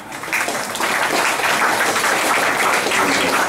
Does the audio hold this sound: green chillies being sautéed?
no